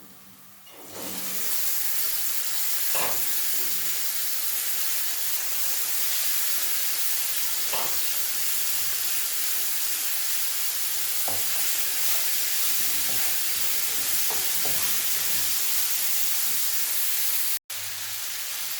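Steady loud sizzling and frying hiss from a pot of sausage stew as beans are added, with occasional stirring clatter and a brief cut near the end; no talking.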